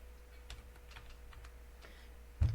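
Light typing on a computer keyboard while entering a search term in back-office software, a few soft, scattered key taps at moderate distance, ending with a slightly louder thump.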